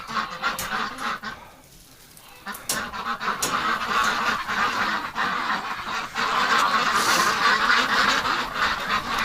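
Ducks in a winter yard in freezing wind, a busy chorus of repeated honking quacks at close range over gusty wind noise.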